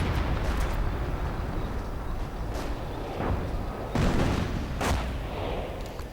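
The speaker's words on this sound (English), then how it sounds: "Hummel keeps firing, getting off some good hits." Hummel self-propelled artillery fires in a video game: several heavy booms and blasts at irregular intervals over a constant rumbling battlefield background.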